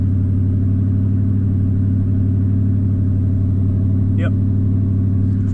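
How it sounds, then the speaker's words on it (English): A Ford F150 truck engine runs steadily under throttle after a throttle position sensor repair, its low rumble holding constant RPM throughout, with a brief spoken word near the end. "when we give it some throttle, the RPMs will stay constant now"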